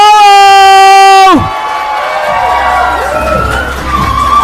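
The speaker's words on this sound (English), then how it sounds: "Let's start clapping right now, guys, for Drew Afwalo!" A crowd at a Hollywood party cheers and claps steadily after a sustained ringing tone cuts off, a lively wash of voices and hands.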